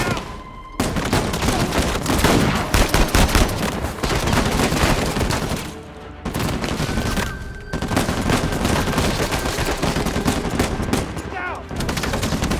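Sustained turret machine gun fire in the Uncharted 4 video game, dense rapid bursts that run almost continuously, loud and near, with brief pauses and faint game voices mixed in.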